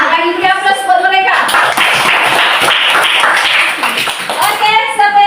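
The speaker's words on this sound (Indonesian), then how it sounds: "Bagi aplaus buat mereka." A classroom of students breaks into dense, steady clapping for a group of classmates who have just presented, loud and close, with a teacher's voice speaking briefly before and after.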